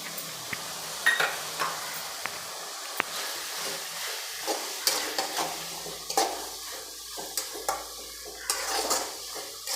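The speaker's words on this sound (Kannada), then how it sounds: "ಈಗ ನಾನು ಒಂದು ಟೊಮೆಟೊ ದೊಡ್ಡ ಟೊಮೆಟೊ ಸಣ್ಣ ಸಣ್ಣದಾಗಿ ಕಟ್ ಮಾಡಿಟ್ಟಿರೋದನ್ನು ಇವಾಗ ಸೇರಿಸ್ತಾ ಇದ್ದೀನಿ" Chopped tomato goes into a hot frying pan and is stirred, giving soft hissing sizzle under repeated scraping and clattering of a spoon against the pan, close and moderately quiet.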